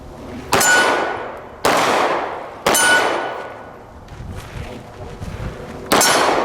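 Pistol shots ring off steel targets at 15 yards while the shooter moves. Four sharp, loud cracks each carry a long metallic ring, with faint rustling between them.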